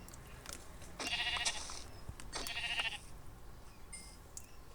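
Two drawn-out, buzzy Minecraft sheep bleats a second apart, with a faint third call later over low background noise.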